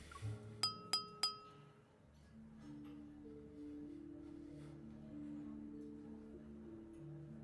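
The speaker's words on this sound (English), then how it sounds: "the crisp sound of clinking glasses captures everyone's attention" Glasses clinking at a shipboard banquet in the Love and Deepspace video game: three crisp, bright clinks in quick succession near the start, followed by a steady bed of low sustained game music.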